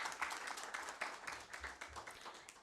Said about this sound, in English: Let's please give her a round of applause.